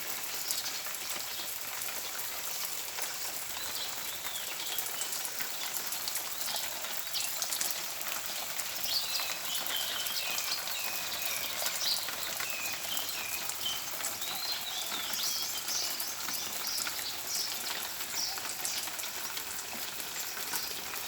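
Falling water from an artificial garden fountain splashes steadily like rain, a dense continuous patter at close range with no voices.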